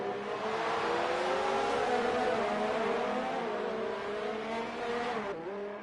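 Race car engines in a sim racing video game during a league round at the Mexican Grand Prix, a sustained droning whine with shifting pitch as several cars run together, steady and fairly loud with a brief dip near the end.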